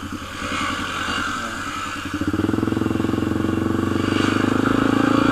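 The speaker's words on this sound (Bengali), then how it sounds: "এবার শামীম ভাই হুইলি মারছে।" A motorcycle engine revs during a wheelie, a close, steady buzzing drone that grows louder and more pulsing as the throttle opens partway through.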